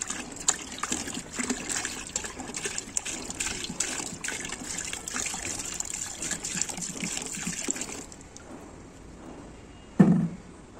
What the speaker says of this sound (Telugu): 2 లీటర్స్ పోస్తున్నాము